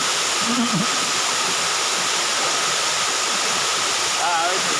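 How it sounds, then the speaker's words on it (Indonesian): The Paradaya tiered waterfall in Selayar pours with a loud, constant roar of falling water. Brief voices rise faintly over it near the start and end. "Air terjun yang bertingkat-tingkat terlupakan"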